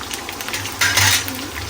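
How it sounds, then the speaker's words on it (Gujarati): Garlic, pepper, cloves, chilies and ginger pieces roasting in a pan for paneer tikka masala, a soft sizzle with clinks of a spoon against the pan and a brief louder burst of frying. "લસણ અને મરીને લવિંગ જે હતી એ બધું આપણે નાખી દઈશું."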